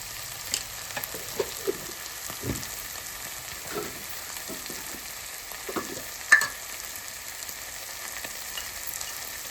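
Spices and salt are stirred into a curry of ridge gourd, egg and raw prawns frying in a pan, with a soft steady sizzle and faint scraping spoon strokes at irregular intervals.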